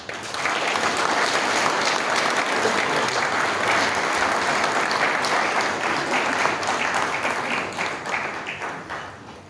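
Sustained applause from a large crowd at a press event, dense and steady throughout, tapering slightly at the end.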